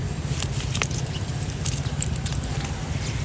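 Keys jangle in a few brief, bright metallic jingles over a low, steady background hum, with no one talking.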